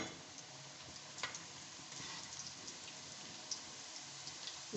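Cheese biscuits fry in hot oil with a continuous close sizzle and bubbling, punctuated by a few sharper pops, fairly quiet and free of speech.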